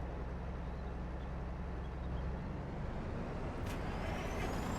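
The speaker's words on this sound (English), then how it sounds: "That truck is so loud." A loud truck with air brakes in Farming Simulator 22 rumbles steadily up close, its low engine drone filling the scene with no talking.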